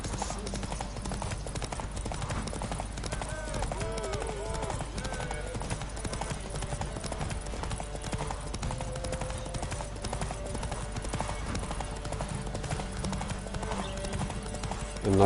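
Steady, rapid clip-clop of a horse galloping in The Witcher 3: Wild Hunt, a continuous loud hoofbeat rhythm that runs throughout while someone talks over it.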